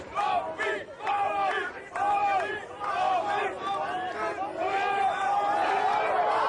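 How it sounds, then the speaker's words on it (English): Dutch supporters at a strongman event in Hungary chant and shout encouragement in rhythmic, loud bursts of massed voices, repeated calls rising over a continuous crowd roar. "The crowd is shouting Ab on"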